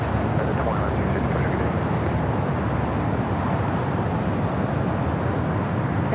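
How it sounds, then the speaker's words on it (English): A United Boeing 777-300ER takes off from LAX bound for Newark, a steady broadband jet engine roar that holds loud and unbroken throughout. "Our next takeoff is that United 777-300ER heading to Newark."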